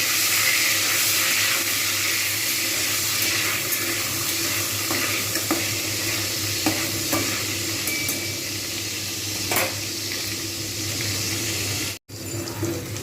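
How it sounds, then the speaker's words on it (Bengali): Paneer pieces frying in hot white oil, a steady dense sizzle and bubbling hiss that holds for about twelve seconds, with a few soft clicks over it, then a sudden brief cutoff near the end. "এইখানে দিয়ে দেবো পনিরগুলো এগুলো আমি লালচে করে ভেজে নেব"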